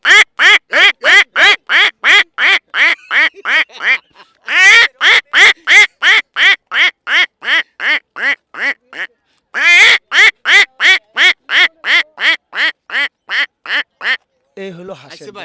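A human voice imitates duck quacking, producing rapid, evenly spaced nasal quacks in three long runs broken by brief pauses, loud and close.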